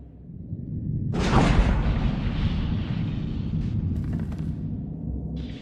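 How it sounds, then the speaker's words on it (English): A heavy ion cannon blast in Star Wars: The Old Republic erupts with a deep booming rush that lingers as a rumbling roar, followed by faint crackles. "Incoming! That's an ion cannon."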